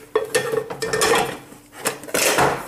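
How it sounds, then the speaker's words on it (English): Metal mess kit frying pans clatter and scrape together up close as they are fitted, giving loud clanks and rubbing rattles in quick, uneven bursts. "It comes with this other frying pan, let me put it together."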